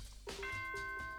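A bright ding-dong chime from the Danganronpa video game rings out clearly: two sustained bell tones with lingering overtones, loud and close, with no voices over it.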